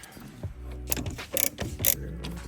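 A ratchet tool clicks in quick bursts while tightening a gauge cluster part in a car, close and fairly loud, with two short rapid ratcheting runs amid handling noise.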